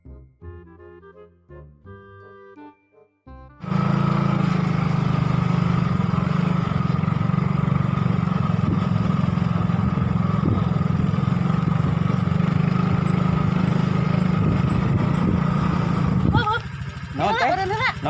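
A motorcycle engine runs in a steady, loud drone for about thirteen seconds, close by and unbroken, before it cuts out. A few short tones come before it, and a voice follows after.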